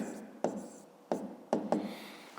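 Chalk or pen strokes scratch out a math equation in four short bursts, each a sharp onset fading away, faint and close in a quiet room.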